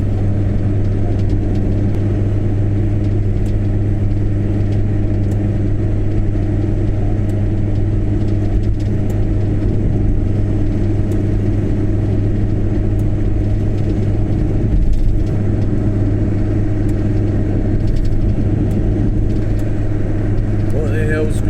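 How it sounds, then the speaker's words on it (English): Steady engine drone of a Peugeot 205 on the M9 motorway, a constant low hum running unbroken throughout without change in level. "Peugeot 205."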